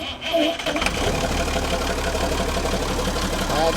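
An abandoned ex-army 6x6 truck engine runs after repairs, a steady, rough low idle with knocking undertones that holds evenly throughout, close and fairly loud.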